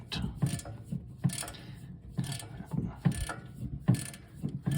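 A socket ratchet loosens bolts on a 1972 Plymouth Scamp during oil pan removal, giving rhythmic bursts of ratcheting clicks, about five strokes in a row, close up and moderately loud with no talking.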